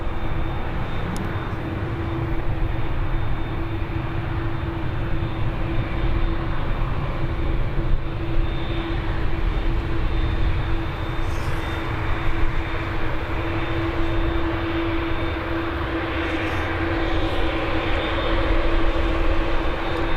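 A Boeing Dreamliner airliner at Birmingham Airport gives a steady, moderately loud engine roar that holds for the whole stretch, with a faint constant tone running through it and no talking.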